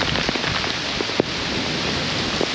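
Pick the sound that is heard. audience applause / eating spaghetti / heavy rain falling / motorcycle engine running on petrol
heavy rain falling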